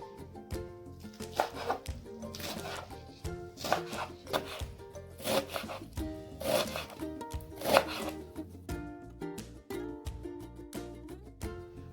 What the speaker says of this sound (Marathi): बटवा देखील आपल्याला बारीक चिरून घ्यायचा आहे